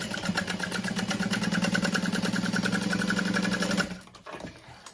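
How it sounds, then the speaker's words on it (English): A sewing machine runs steadily, stitching a fabric panel for a bag, its rapid even needle rhythm loud and close for about four seconds before stopping abruptly, leaving faint handling sounds. "I'm going to flip this over so I can start my stitching the same as the last side."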